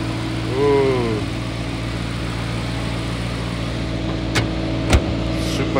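A 2024 Porsche Cayenne Turbo S E-Hybrid's 4.0 V8 idles steadily with a low, even hum close by, a brief rise near the start and a couple of short sharp clicks toward the end, under a few voices.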